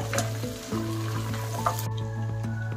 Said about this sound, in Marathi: हे खेकडे मस्त मिक्स करून घेऊया आपण या फोडणीमध्ये